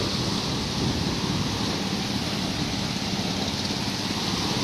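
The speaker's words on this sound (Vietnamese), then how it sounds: "Đi gần gần ở đây thì nghe cái tiếng sóng biển là như vậy bạn." Sea waves washing ashore at low tide on Bai Dua beach in Vung Tau, Vietnam, make a steady, unbroken roar of surf that stays loud and even throughout with no voices.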